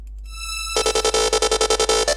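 The original trance synth lead enters after a thin held tone, then pulses in quick, evenly gated stabs, loud and rhythmic with a low drone underneath.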